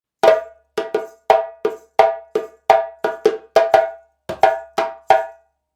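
Djembe playing a variation of the traditional Guinean rhythm Fakoly, a steady string of about twenty bright, ringing hand strikes and slaps in syncopated pairs and groups, close and loud with no talking.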